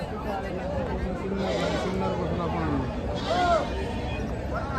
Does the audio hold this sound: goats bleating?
yes